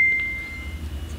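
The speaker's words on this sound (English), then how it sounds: "So somebody just sent me a ding of some sort" A phone notification ding in a quiet hotel room: one short, clear tone right at the start, then it cuts off, leaving a low steady room hum.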